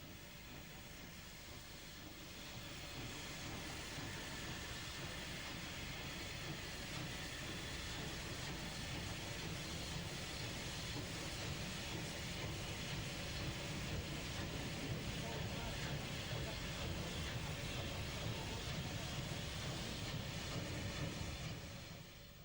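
Unrebuilt Southern Railway Pacific steam locomotive 34019 running on the line toward the south coast, a steady loud rumble and hiss of train movement that builds after the first seconds and carries on unbroken before easing at the end.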